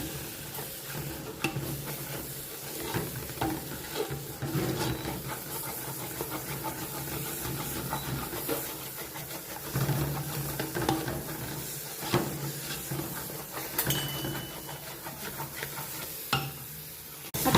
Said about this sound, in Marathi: आता आपण कंटिन्यू हलवत राहायचा आपला मसाला लागता कामा नाही